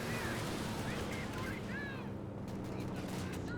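Gunfire in Company of Heroes 2 crackles in rapid bursts within a dense, loud battle din, with whistling projectiles overhead in the first seconds.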